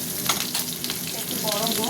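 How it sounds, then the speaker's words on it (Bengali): Dried red chillies sizzle in hot oil at the start of a prawn and fish curry, a loud, close, continuous crackling fry with no voices. "প্রথমে দিয়ে দিলাম শুকনো লঙ্কা,"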